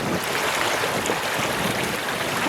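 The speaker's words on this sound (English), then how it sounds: "I can pretty much just hear the wake of the water" Water rushing in the wake around a boat running on quiet electric power, a steady close hiss and wash with no engine noise or voices.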